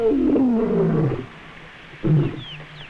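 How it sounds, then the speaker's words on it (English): An adult male lion roaring in the African bush, a deep rumbling roar lasting about a second followed by a shorter grunt, close and loud with quiet gaps between. "hearing the roar of an adult male"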